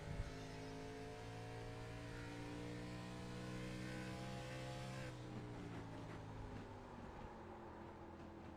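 Race cars in the iRacing video game at the Milwaukee Mile oval hold a steady, loud engine drone, then the pitch drops and wavers as the cars slide and the revs change, with no voices.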